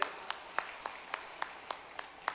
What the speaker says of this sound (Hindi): जोरदार तालियां बजाओ सभी के लिए